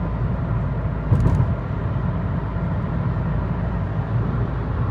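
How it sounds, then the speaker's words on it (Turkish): An Opel Astra H cruises at 80 km/h at about 1650 rpm, giving a steady low engine hum and road rumble from inside the cabin, with a brief thump partway through. "Araç tam olarak e, 1650 devirde gidiyor 80'de giderken"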